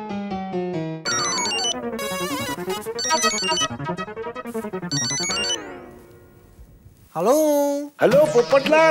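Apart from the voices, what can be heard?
phone ringtone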